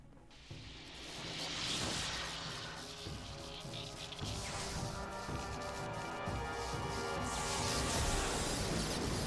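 Lightning bending in Avatar: The Last Airbender crackles as a sustained, roaring electrical surge with bright hissing highs and rumbling lows, building steadily and loudly across the scene.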